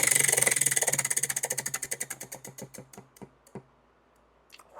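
A prize wheel spins with a fast, even ratchet of clicks that slows steadily to a stop, the final clicks spread out and fading after about three seconds.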